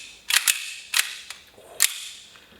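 A Secutor Rudis 1911 CO2 BB pistol fires three sharp, snappy shots at uneven intervals, loud and close, with faint clicks between them and no talking.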